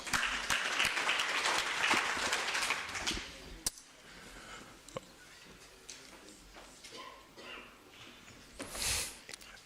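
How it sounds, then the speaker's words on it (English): An audience at a university research and innovation week event applauds, fairly loud clapping at first that thins out and fades into scattered claps and quiet room noise. "Another round of applause."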